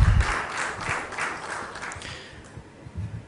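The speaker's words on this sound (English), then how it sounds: "I request a round of applause for him" A conference audience at a smart-cities event in Goa claps for a panelist joining the stage, a brief burst of applause that swells, then thins and fades.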